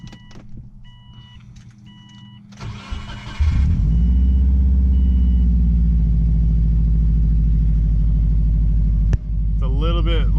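A Subaru Forester with a catless up pipe and muffler delete starts up and settles into a loud, deep, steady idle rumble close by, with a brief dip near the end and other mechanical noise.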